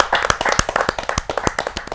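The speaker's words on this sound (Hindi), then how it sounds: "उस टाइम के साथी महेंद्र अजनबी जी हमारे बीच में, जहाँ जोरदार ताली के साथ हम उनका स्वागत करते हैं।" An audience at a Hindi kavi sammelan welcomes poet Mahendra Ajnabi with close, crisp clapping. Individual hand claps stand out sharply in a loose, fairly quick rhythm.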